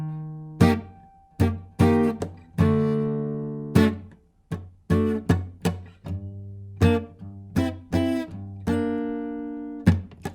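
On acoustic guitar, a minor blues riff mixes ringing plucked chords and single notes with percussive muted dead-note strikes, played at a moderate, uneven rhythm by a solo player with no talking.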